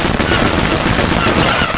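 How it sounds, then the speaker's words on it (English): Rapid machine-gun fire from the Mr. Machine Gun spider boss in the Pikmin video game, a loud, dense continuous burst of shots with no pauses. "Oh, Mr. Machine Gun. Yeah, it's an actual machine gun"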